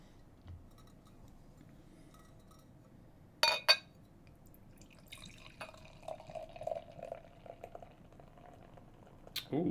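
Beer slowly poured into a glass during a long five-minute pour, a soft bubbling trickle with brief glassy clinks near the start and end, fairly quiet and close, with no talk.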